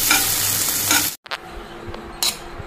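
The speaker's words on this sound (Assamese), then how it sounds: "অকণ ল' ফ্লেমতে এইখিনি চফ্ট হোৱালৈকে অকণ ভাজি ল'ম" Onion, tomato and spice masala for a chutney fries and sizzles softly in a pan on a low flame, with short clinks of a spoon stirring near the middle.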